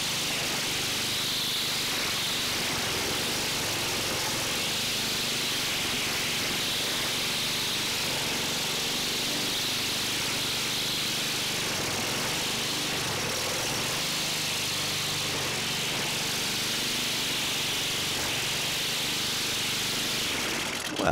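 A powerful high-grass trimmer cuts regular grass, a continuous loud engine whine with hissing line noise that holds steady throughout, no talking.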